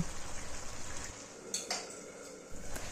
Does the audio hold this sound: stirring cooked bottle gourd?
yes